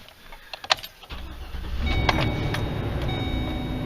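An RV truck engine is started from the driver's seat: a few clicks and a key jingle, then a cranking catch and a steady idle rumble close by.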